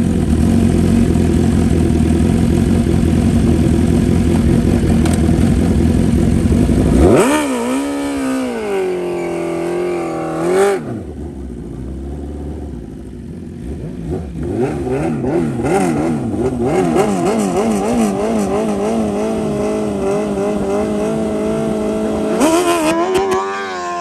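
A BMW S1000RR sport bike fitted with an aftermarket exhaust at a half-mile drag race, roaring loud and close at full throttle, then dropping away before revving and building again across the run.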